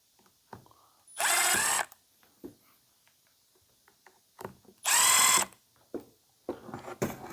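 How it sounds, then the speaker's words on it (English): A power tool, drill-like, is used on a seized Shindaiwa 757 engine in two loud whirring bursts of about half a second each, separated by quiet clicks and handling noises, with a third short burst near the end. "That's why we got power tools."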